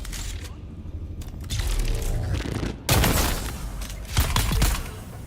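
Rapid disruptor pistol fire from Dune Awakening comes in loud, dense bursts near the middle and end, with a mechanical reload clatter between volleys and excited speech running underneath.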